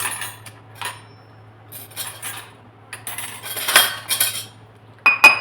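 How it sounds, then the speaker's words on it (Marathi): Spoon and steel spice containers handled in a kitchen, a series of close metallic clinks, taps and rattles in irregular bursts over a low steady hum. "चमचा आधी साईडला काढूया"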